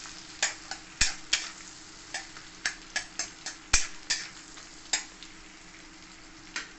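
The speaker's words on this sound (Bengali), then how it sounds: "গরম মশলাটা ভালো করে ভাজা হয়ে গেলে" Whole cardamom, cloves, cinnamon and black peppercorns fry in butter for a chicken stew, a steady close sizzle broken by a dozen sharp, irregular clicks and taps of a utensil against the pan.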